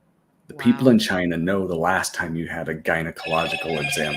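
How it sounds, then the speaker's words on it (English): A phone ringing in a room, its repeated bright electronic tones running under continuous conversational speech from several people discussing medical records. "Sorry about my phone."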